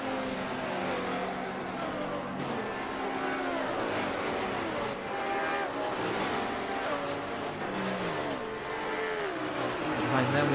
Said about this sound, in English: We got 2 Mercedes battling it out for the 6th position, SCT Turbo Mike and TRC 521.